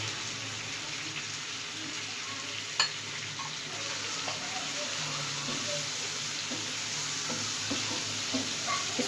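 Spices fry in hot oil with tomatoes for dal mash, a steady close sizzle under occasional scrapes and taps of a spoon stirring the pan.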